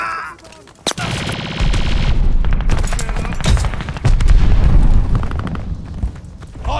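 Enemy gunfire in the Call of Duty Vanguard multiplayer game on PS5, with dense rapid automatic bursts and heavy booming impacts. The firing runs loud and close almost nonstop, with a brief voice heard early.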